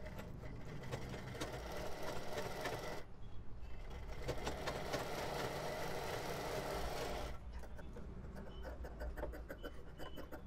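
A sewing machine runs steadily, stitching the neckline of a boat-neck kurti, with a close continuous whirring drone and one brief pause midway.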